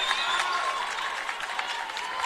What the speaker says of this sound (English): The Manly fans stood up and applaud.